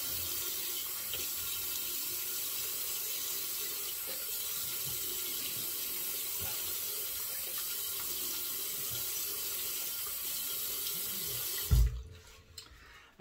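A tap runs steadily into a sink as water wets the face before a wet shave, a constant close splashing stream that cuts off near the end, no talking.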